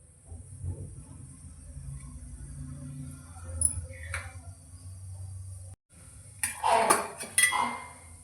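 Cumin seeds dropped into hot oil in a pan give a faint sizzle and crackle, followed by louder clinks of a metal spoon against the pan, up close with no voices.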